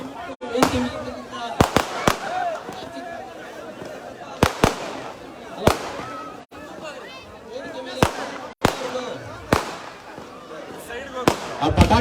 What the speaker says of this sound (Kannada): ಪಟಾಕಿ ಜನಗಳಲ್ಲಿ ಬೀಳ್ತಾ ಇದೆಯಂತೆ